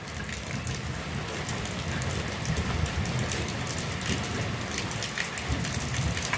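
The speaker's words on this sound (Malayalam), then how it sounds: "ഫുള്ള് നല്ല മഴയാണ്." Steady heavy rain pours outdoors in Kerala, a dense, even hiss of falling drops that holds at moderate volume throughout with no voices.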